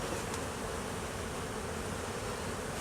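Honey bees at a hive being relocated make a steady, dense buzzing drone, close and continuous with no pauses and no voices.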